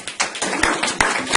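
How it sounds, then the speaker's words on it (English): City council audience clapping after a speech in San Bernardino, heard as a close, loose patter of individual claps with uneven sharp hits rather than a full roar, brief and without voices. "And I think they deserve a round of applause for that great work."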